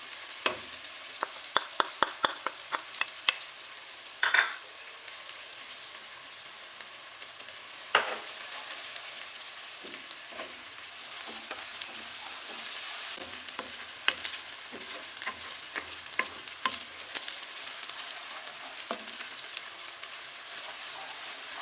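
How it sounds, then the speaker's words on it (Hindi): Ginger garlic paste fries in a pan over softened onion, a soft continuous sizzle with quiet crackles, stirring and scattered clinks of a utensil against the pan, fairly faint and with no talking. "टू मिनट्स तक हम अदरक लहसुन की भुनाई करेंगे।"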